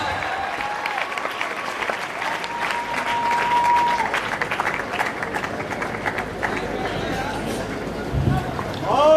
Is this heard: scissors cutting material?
no